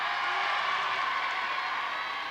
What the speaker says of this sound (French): oui, on applaudit